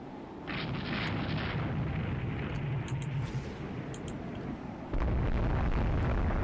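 Heavy naval battle explosions from torpedoes striking a warship in the naval strategy game Rule the Waves 2, a sustained loud rumbling burst that swells and then surges again with a deep boom near the end.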